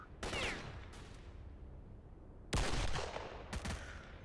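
Gunfire from the video game S.T.A.L.K.E.R. with a zombie mod: a few separate sharp shots as the last rounds are fired, loud against a low game ambience with gaps between shots.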